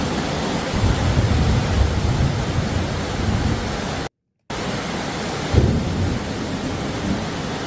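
An approaching thunderstorm brings continuous heavy rain with a deep rolling rumble of thunder beneath it, loud and steady, briefly cut to silence midway before the downpour resumes.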